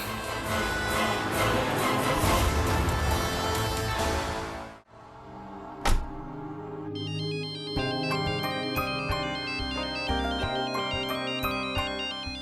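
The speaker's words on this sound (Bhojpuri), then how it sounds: "दीदी महक के फोन आवता," A mobile phone ringtone signals an incoming call, a loud melodic tune with stacked tones that stops abruptly, followed by a brief sharp hit and then a steady synthesized musical pattern.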